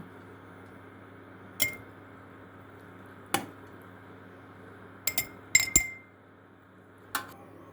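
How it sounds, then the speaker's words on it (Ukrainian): Pieces of eggplant and pepper set into glass jars for pickling give a handful of sharp glass clinks and knocks, spaced irregularly and then bunched together, over a quiet kitchen background. "І тепер ми викладаємо його у баночки."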